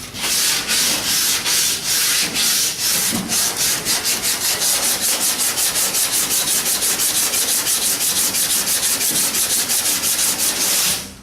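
Steady hand sanding of putty with the fingers: rhythmic rubbing strokes, close and continuous, sweeping back and forth at an even pace with no voices.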